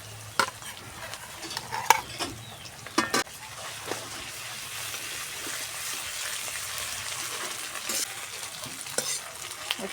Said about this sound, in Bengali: একটু কষিয়ে নেব যাতে আদা রসুনের কাঁচা গন্ধটা চলে যায়।